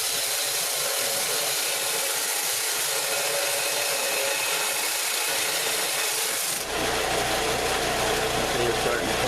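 An old belt sander grinding saw blade steel, producing a continuous harsh abrasive rasp with rough, pulsing texture, close and loud, then shifting to a smoother, steadier grind partway through.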